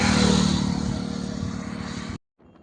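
A motorcycle rides along a highway with a loud, steady engine drone and wind roar that fills nearly the whole stretch, then cuts off abruptly near the end and leaves only faint background noise.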